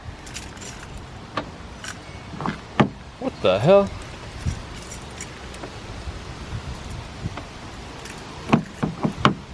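Car keys jangle and click near a Volkswagen MK6 Golf R while someone tries to unlock it with the wrong key, in bursts of metallic rattling with knocks and handling clatter, and a man's brief speech in between.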